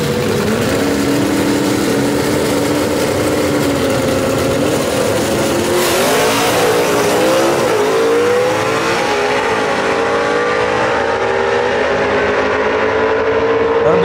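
Gasser drag race cars, numbers 6 and 7 qualifiers, roar down the strip at Knoxville Dragway in a first-round pairing, a loud sustained engine howl that climbs in pitch and swells midway as they pass.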